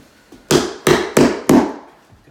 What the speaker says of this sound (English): Usually it just takes one hit of the hammer.